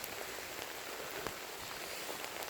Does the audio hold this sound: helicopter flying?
no